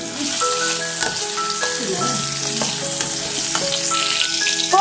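Crushed ginger and garlic sizzle steadily in hot oil, a close, continuous crackle with occasional stirring scrapes and faint tonal clinks throughout.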